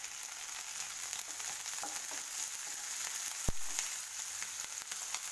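Green chilies frying in a pan for tomato rice, giving a steady, close hiss and crackle of hot oil throughout with a brief sharp knock midway; no talking.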